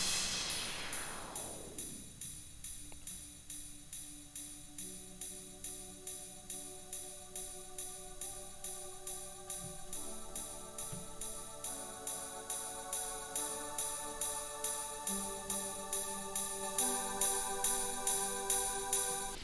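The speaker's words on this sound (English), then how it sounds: "The oscillator itself has a little bit of Fruity Delay 3," A synth oscillator treated with Fruity Delay 3 and a Karma FX filter plays steady repeating notes with delay echoes, starting from a bright sweep, at low level with a clear pulsing rhythm and no voices.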